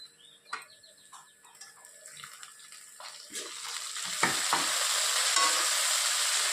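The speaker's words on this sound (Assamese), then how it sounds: "এইখিনি মই কম ষ্টিমত অলপ সময় বিলাহীখিনি গলি নোযোৱালৈকে ভাজি ৰাখিম।" Tomatoes frying in a pan over low heat, starting with a few clinks and scrapes and swelling into a loud, steady sizzle with stirring and no voices.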